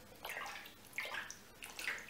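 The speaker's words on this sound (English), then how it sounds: "and just clean off the top of the water." Leftover paint is skimmed off the surface of a marbling water bath with cardstock or a skewer, making three soft swishing, sloshing strokes of water at a steady pace, close and quiet, with no talk.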